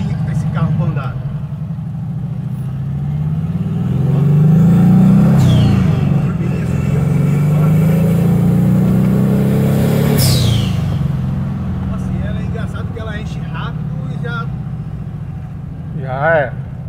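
Turbocharged air-cooled VW Gol BX engine revving loudly up close, a sustained rising and falling roar with turbo whoosh, under ongoing voices.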